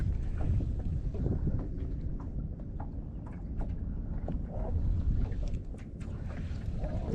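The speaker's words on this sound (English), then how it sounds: "that wind has definitely cooled down the environment" Steady outdoor wind rushing and buffeting against the microphone on a fishing boat, continuous and fairly loud throughout with faint knocks and water sounds beneath.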